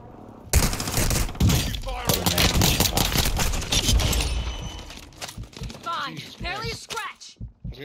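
Rapid bursts of gunfire from a team shooter video game, with loud shots and shattering noise packed into the opening seconds, then tapering off under excited voices and game chatter.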